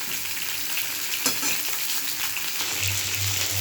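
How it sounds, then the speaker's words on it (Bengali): Pieces of pointed gourd (potol) fry in oil in a pan with a constant close sizzle, occasional stirring scrapes and a low hum underneath, steady throughout with no talking. "আমার পটল ভাজা হয়ে গেছে, লাল লাল করে ভেজে নিয়েছি"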